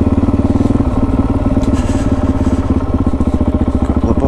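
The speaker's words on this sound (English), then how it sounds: "Couple of bikes." Motorcycles rumble loudly and close by on a mountain road near the Border Loop Lookout in the Border Ranges, with a steady throbbing engine drone that holds throughout.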